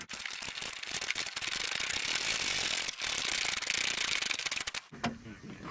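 A ratchet tightens an 8mm bolt on a 2006-2011 Honda Civic, giving a loud, close, rapid stream of metallic clicks that runs for about five seconds, then stops abruptly with a short pause and a brief rattle.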